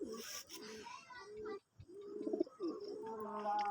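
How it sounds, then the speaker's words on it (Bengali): Pigeons, including young birds, released from a loft onto an open rooftop, giving soft repeated cooing calls with light rustling throughout, close and moderately loud, briefly dropping to near silence midway. "এখানে দেখতে পাচ্ছেন সব কবুতরগুলো ছেড়ে দিছি আজকে"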